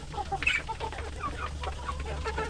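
Free-range village chickens about three months old cluck softly and often on a farm, a scattered flock of low murmuring calls at moderate distance with no talk.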